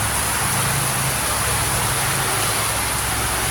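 Heavy rain with large drops pours down in a steady, dense broadband hiss that is loud and continuous throughout, set against a flooded locale, with a low rumble underneath and no voices.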